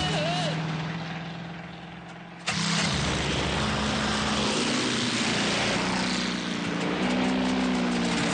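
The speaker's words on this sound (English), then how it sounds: "Are you sure about this plane, Uncle Gadget?" A cartoon propeller airplane drones in steady flight, dipping briefly and then returning with a louder, fuller engine roar that holds to the end.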